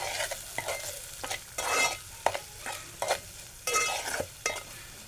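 Chopped onion and tomato, seasoned with salt, fry in a pan for a spine gourd (kantoli) vegetable dish while a spoon stirs them in repeated scraping bursts over a steady, close sizzle.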